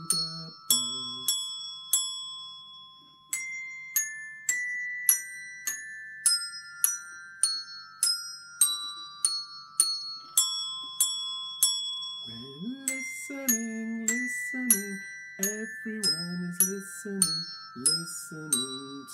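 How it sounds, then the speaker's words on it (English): Bright bell chimes ring one after another in a steady rhythm, each tone fading slowly; partway through, a singing voice joins beneath them. "Everyone is listening, listening to the bells."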